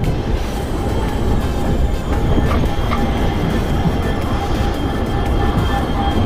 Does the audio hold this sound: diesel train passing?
yes